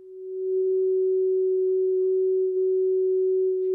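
A steady pure sine tone comes through an Icom IC-7300 transceiver while it is calibrated against a reference signal, fading in and holding level and loud, alone for nearly four seconds.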